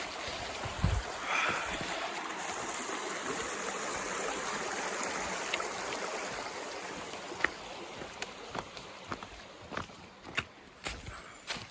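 A mountain creek on a wilderness trail rushes in a steady broadband wash, moderately close, with a few footstep crunches and brief knocks scattered over the flow.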